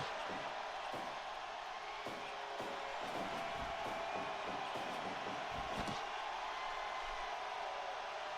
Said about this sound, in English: And the crowd losing their minds